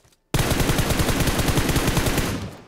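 Rapid automatic gunfire erupts in the PUBG video game at Pochinki, a loud, dense burst of shots firing in quick succession for over two seconds after a brief silence.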